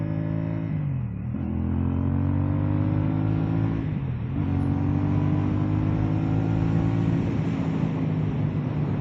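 A CFMOTO 450SS sport motorcycle rides along with a steady, loud engine drone throughout, its pitch dipping briefly around gear changes before climbing again, with wind rush layered over it.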